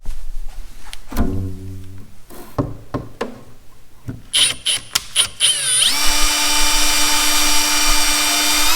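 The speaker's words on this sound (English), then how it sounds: "let's get to drilling" A power drill whirs in several short bursts with clicks and knocks between them, then runs steadily at a high pitch for a few seconds, drilling a hole for motorcycle tour pack tail light wiring.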